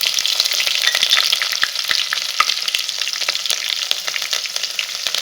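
Cumin seeds and chili hit hot oil already holding mustard seeds, giving a bright, continuous sizzle at close range with scattered crackles and pops throughout.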